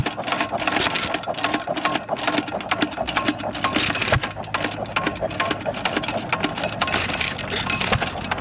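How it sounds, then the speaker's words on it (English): A worn-out 1920s Ottawa drag saw engine, loose throughout, runs with a fast, steady mechanical clatter that stays loud and unbroken from start to finish, with no pauses. "the old Ottawa drag saw engine seems to be running pretty darn good"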